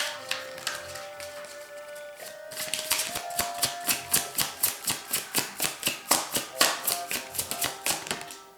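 Oracle cards are shuffled and drawn for a tarot-style reading. A steady run of quick, close tapping and slapping sounds rises over faint background music and continues in an even rhythm.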